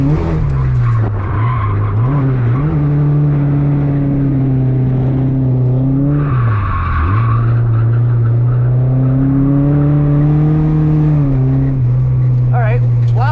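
A race car drifts and spins out on its first lap, its engine revving and falling in loud sweeps as the tires skid and squeal, with a person talking over the noise.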